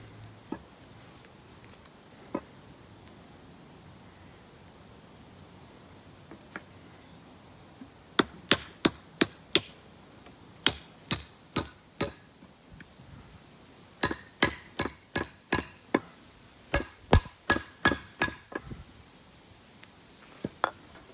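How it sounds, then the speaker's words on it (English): A wedge is hammered into the top of a replacement handle on an old restored axe: sharp, loud wooden strikes come in quick bursts of four to six blows, separated by short pauses, with no talking. "Now we put the wedge in here."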